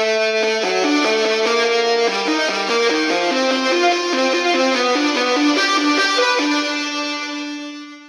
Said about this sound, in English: Put the compressor on and then EQ and put our effects on.